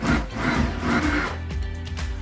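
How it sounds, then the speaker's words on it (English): A drill bores a hole through a wooden plank for a ceiling fan cable, giving a steady, grinding whir that runs for about a second and a half before giving way to a quieter, rougher rumble. "I'm gonna drill a hole to feed the cable through."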